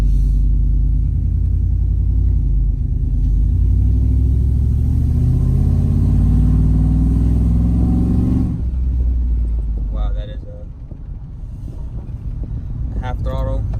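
Engine of a 2005 GMC Sierra pickup, naturally aspirated and running lean, revs at half throttle in a rising, loud roar that builds for several seconds, then drops back to idle rumble with wind noise on the microphone.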